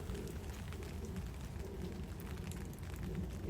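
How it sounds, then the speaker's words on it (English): Steady rain falls outdoors at a carp fishery lake in Kent as evening approaches, a dense, constant hiss and patter close around, with no pauses or voices. "I hope this rain stops in a minute."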